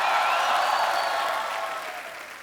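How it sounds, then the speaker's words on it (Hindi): A studio audience at a comedy talk show claps together, a dense, steady wash of applause that starts full and slowly fades toward the end. "जोरदार तालियां प्लीज"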